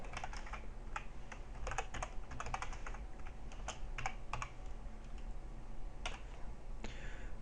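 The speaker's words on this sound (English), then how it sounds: "I just want to type it out." Typing on a computer keyboard at a desk while programming, with irregular bursts of fairly quiet clicking keystrokes, brief pauses between runs, and no voices.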